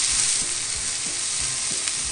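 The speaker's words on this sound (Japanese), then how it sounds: "今これ炒めてるの" Pork belly rolls wrapped around garlic shoots sizzle loudly in a single pan, a steady dense frying hiss with faint rhythmic scraping of stirring underneath.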